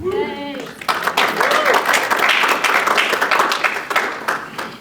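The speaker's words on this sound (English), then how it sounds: "We love to hear those claps, don't we?" An expo audience at a DTF printing presentation breaks into sustained applause, dense and fairly loud clapping lasting several seconds after a brief voice at the start.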